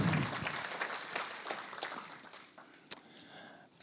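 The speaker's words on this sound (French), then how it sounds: "est-ce qu'on peut acclamer pour l'encourager?" Audience cheering and clapping at a live talk to encourage a sign language interpreter, a dense burst of applause that gradually fades, with no speech over it.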